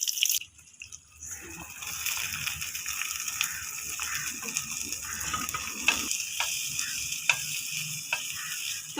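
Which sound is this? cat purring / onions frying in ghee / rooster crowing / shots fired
onions frying in ghee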